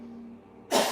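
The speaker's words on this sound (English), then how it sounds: "If you cough like I do normally" A single short cough bursts out near the end after a quiet stretch, close and fairly loud.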